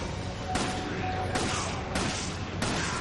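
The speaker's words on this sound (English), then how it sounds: "he's shooting from over there" Gunfire in the video game Resident Evil 5 comes as four sharp, evenly spaced bursts of shots over a steady background rumble.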